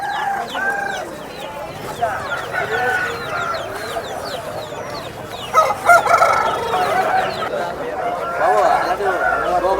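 Chickens cluck close by amid a busy crowd of birds, with a rooster crowing partway through while people talk in the background.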